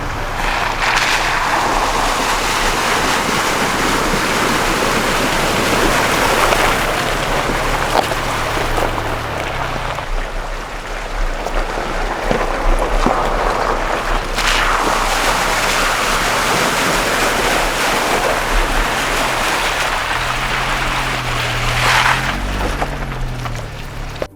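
A Chevrolet ZR2 truck drives through water crossings on a mountain trail near Medano Pass. Loud, continuous rushing and splashing water blends with heavy wind buffeting across the whole stretch, with no talking.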